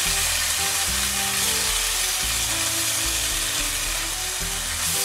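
Crab meat simmering in coconut milk in a pan, a steady, dense sizzle and bubbling throughout, close and even, with no voices.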